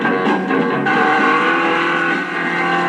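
The Batmobile engine roars with its supercharger engaged, a loud, sustained race-car drone with a brief high whoosh at the start, close and steady throughout.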